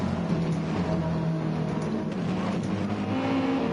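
A race car engine howls around the Brands Hatch circuit, steady and loud with a droning, slightly shifting pitch throughout, no talk over it.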